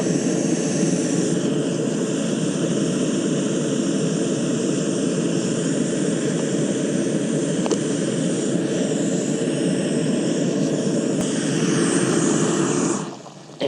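A backpacking stove on a solo trail trip in Colorado burns with a steady, loud roar as it brings water to a boil. The rushing hiss holds even and close throughout, then cuts off abruptly near the end.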